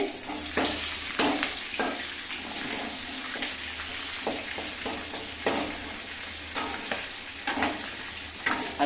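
Peanuts, mustard seeds, chana dal and green chillies crackle and sizzle in hot oil for a gongura pulihora tempering. Sharp pops and spatula stirs sit over a steady close fry, with no talking.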